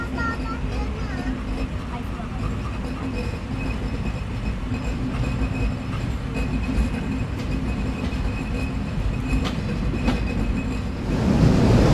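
A passenger train pulls out of Pangsha railway station in Bangladesh, its steady rumble and rattling wheels heard from on board for the whole stretch, building slightly louder toward the end.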